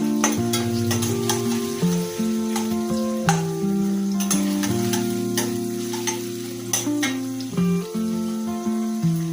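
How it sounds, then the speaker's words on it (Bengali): Onions frying in a pan for a bottle gourd curry, a steady sizzle with scattered stirring scrapes and clicks, running continuously under a tonal musical bed. "এই পর্যায়ে আমি পেঁয়াজ দিয়ে দিলাম।"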